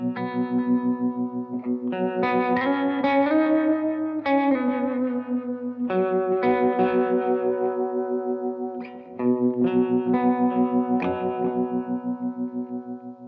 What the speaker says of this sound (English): let me just remind you what that harmonic tremolo sounds like.